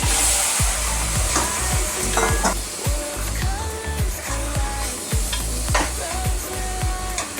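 Chicken sizzles loudly as it fries in a pan for a spicy gravy, with a steady hiss broken by repeated scraping strokes of a stirring spoon, close and continuous.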